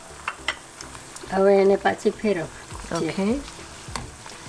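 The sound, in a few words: methi farsi puri frying in a pan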